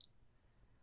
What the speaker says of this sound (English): a metronome is what musicians use to help us keep a nice steady beat